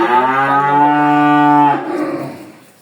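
One long, loud heifer moo close by at a dairy farm, holding steady before trailing off into quiet.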